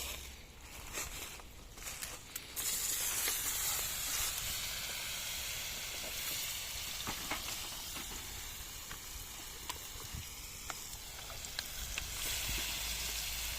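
Young potatoes tipped into a hot pan of fat burst into a loud, steady sizzle that keeps hissing evenly, with a few faint clinks over it.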